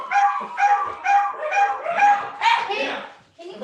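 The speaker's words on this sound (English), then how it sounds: "let me try and get the dogs to be quiet" Indoor dogs bark and whimper in a steady run of short, repeated yelps close to the listener, about six bursts in quick succession, ending with a brief whine.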